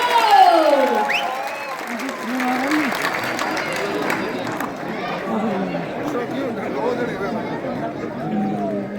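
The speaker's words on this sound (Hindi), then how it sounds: "अरे जोरदार ताली होनी चाहिए यारो" Audience applause at an honouring ceremony for a Mumbai Jat community 50th anniversary event, moderate clapping from a crowd mixed with loud chatter and voices talking over it throughout.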